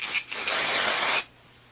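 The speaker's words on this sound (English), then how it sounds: "Then I'm gonna come back through with my texture spray, and this is the spray clay" A loud aerosol of texture spray clay for hair hisses in one steady burst for about a second, then cuts off, leaving a faint background hum.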